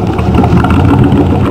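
A 1947 Ford engine runs close by, its exhaust rumbling steadily through a glass pack muffler with a slight leak, a loud, even low drone with no talking.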